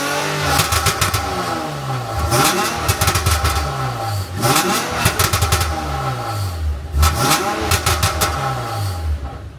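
A Lexus IS350 V6 fitted with PPE headers revs repeatedly, each blip rising sharply and falling back, with crackling pops on the overrun, loud and close, and no talking over it.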